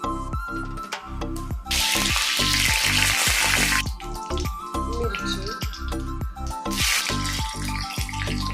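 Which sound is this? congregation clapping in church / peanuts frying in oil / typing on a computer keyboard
peanuts frying in oil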